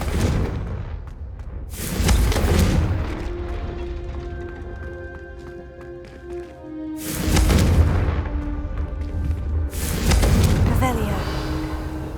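Fiery Confringo explosion spells from Hogwarts Legacy burst in heavy booming blasts, three loud impacts with rumbling tails, while a voice calls out the spell over game music.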